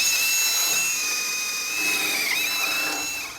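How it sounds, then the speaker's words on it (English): A high, steady whine of a power drill running continuously, with a slight dip in pitch partway through as it bites into material. "so we need to do some drilling"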